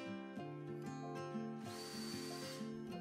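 Power drill driving screws through a miter bar into the rear fence of a wooden crosscut sled, its motor whining in steady pitched bursts that rise and dip as each screw seats, close up with no talk.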